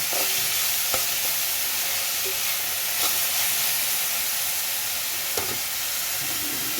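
Drumstick flowers and poppy seed curry stirred in hot oil, a steady frying sizzle with a few sharp spoon scrapes and knocks against the pan, close and fairly loud, no voices.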